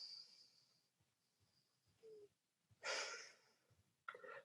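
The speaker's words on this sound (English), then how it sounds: "I don't know if you can hear my breathing there, but it was a little rough and a little erratic when I did that" Alternate nostril breathing through one blocked nostril, rough and erratic: faint soft breaths followed by a louder rushing inhale or exhale and a short sharp breath at the end, close and alone.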